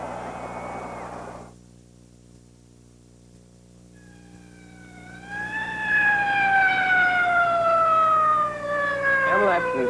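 Emergency vehicle siren in a television advert, rising wailing tones that swell in after a short quiet stretch and grow louder, with faint sound before it.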